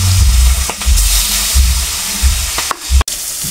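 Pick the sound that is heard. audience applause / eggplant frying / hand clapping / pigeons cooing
eggplant frying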